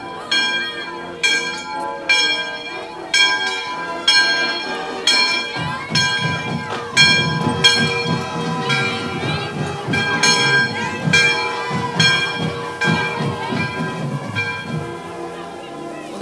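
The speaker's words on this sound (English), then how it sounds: "They're going to ring the bell for us here" A football victory bell is rung repeatedly during a Christmas parade, loud metallic clangs at a steady rhythm, ringing out over crowd and band noise.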